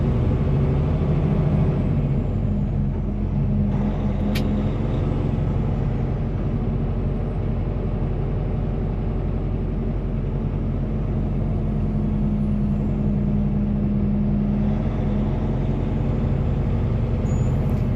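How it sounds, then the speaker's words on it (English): A Peterbilt 589 truck moves through rush-hour traffic around Baltimore, its heavy engine giving a loud, steady low rumble from inside the cab, with a brief hiss partway through. "rush hour traffic around Baltimore"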